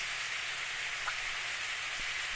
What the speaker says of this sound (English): It was raining that day too.